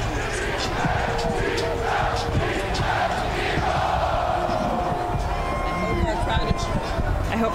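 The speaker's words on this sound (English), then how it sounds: "here come the Eagles chants" A large outdoor crowd at a Philadelphia Eagles Super Bowl 52 celebration on the Ben Franklin Parkway chants and roars continuously, a dense rhythmic swell with voices talking close by over it.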